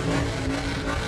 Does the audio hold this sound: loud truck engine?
yes